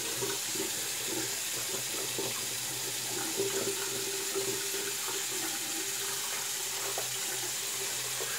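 Tap water runs steadily into a sink while a razor is rinsed during a wet shave, a continuous close hiss of flowing water with faint clinks and no talking.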